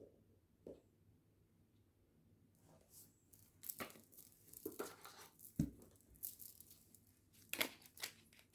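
Many tarot cards being handled and shuffled, with scattered papery rustles, flicks and slaps that grow busier and louder in the second half, close and alone with no talk.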